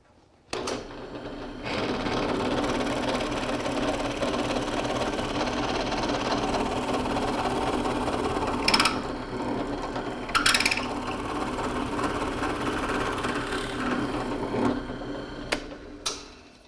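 A Forstner bit bores into a clamped wooden board with a steady, close mechanical whirr and grinding drone lasting about fifteen seconds, broken by a couple of brief squeaky scrapes partway through.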